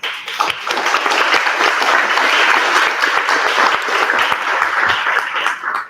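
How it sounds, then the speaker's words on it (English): Applause for residents at a Chinatown town hall meeting: a sustained burst of many hands clapping that fills the room for several seconds before tapering off. "So thank you, and another applause for our residents."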